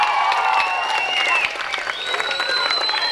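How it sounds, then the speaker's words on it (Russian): Audience applause at a children's summer camp gathering in Alushta, clapping under loud tonal music and voices, easing slightly partway through. "Аплодисменты!"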